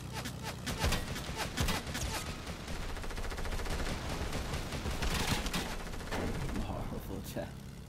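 Video game gunfire crackles in rapid, dense bursts, machine-gun-like volleys overlapping almost continuously at moderate loudness, with a voice talking over the shooting.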